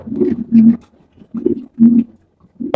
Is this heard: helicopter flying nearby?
no